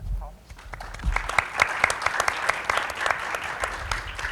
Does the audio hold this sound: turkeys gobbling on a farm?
no